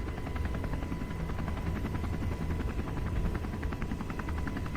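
A modified Sikorsky UH-60 helicopter in Kerbal Space Program gives a loud, steady rotor and engine drone with a faint pulsing beat, running unbroken throughout with no voices.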